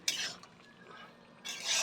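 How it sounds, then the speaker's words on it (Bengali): A spoon stirs pointed gourd curry in a pot, two short scraping swishes at the start and end with a quieter pause between, close and soft with no voices. "ঢাকা দিয়ে আবার কিছুক্ষণ পরে একটু নাড়ব"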